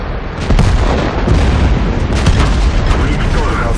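A heavy tank shell from an Object 140 ricochets off armor during a World of Tanks clan wars battle, a loud dense booming roar that stays up close and sustained through the moment.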